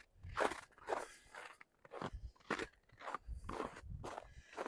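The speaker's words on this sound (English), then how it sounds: "occasionally walking in the crunchy snow" Footsteps crunching through snow while walking outdoors in Regina in March, a steady series of close, crisp crunches in uneven rhythm with no talking.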